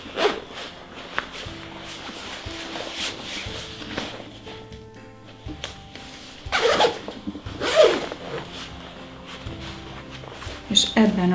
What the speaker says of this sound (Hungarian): akkor átfordítva cipzározzuk be